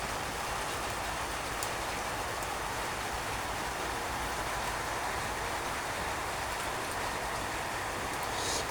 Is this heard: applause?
no